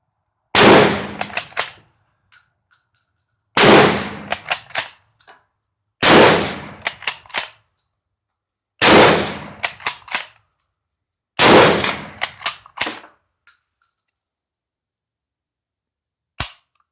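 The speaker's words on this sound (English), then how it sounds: "Andy's shot at the rapid fire with the Gew 88." Five loud rifle shots from a Turkish-used Gew 88/05 ring out outdoors at intervals of a few seconds. Each blast is followed by quick metallic bolt-working clacks, and one faint click comes at the end.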